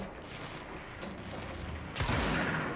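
Gunfire in the Go Go Power Rangers video game: a steady, dense wash of shots with no clear single reports, growing louder and closer for the final second.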